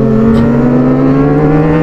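A Yamaha R6 sport motorcycle pulls away in first gear at a morning market. Its engine gives a loud, close, steady drone that rises slightly throughout.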